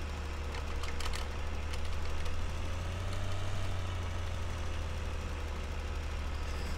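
Tractor engine in the video game Farming Simulator 2013, a steady low idle-like drone with a brief rise in pitch midway, running throughout with faint clicking above and no talk.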